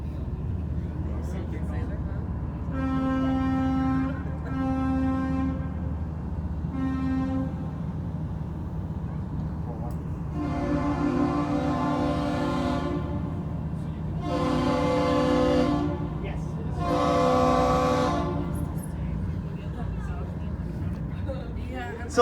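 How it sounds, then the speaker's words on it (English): A ship's horn on Lake Superior at Duluth, Minnesota, sounds the captain's salute: one long blast and two short ones. The same pattern then answers back more loudly, with a faint rumble of wind and engines throughout. "Our captain is going to be sounding off our ship's horn. He's going to be doing 1 long blast followed by 2 short blasts"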